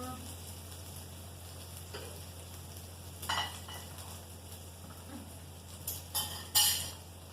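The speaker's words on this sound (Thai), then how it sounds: "ถั่วงอกใส่จ้า แล้วก็คนนิดนึง" Bean sprouts are stirred into grilled beef in a pan over a low, steady sizzle, with a few scraping stirs and metallic clinks from a utensil against the pan near the end.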